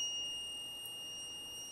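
A homemade break-beam barrier alarm, built from five components on a universal circuit board, sounds a steady, high-pitched electronic tone that holds unbroken and fairly loud throughout, with no voices.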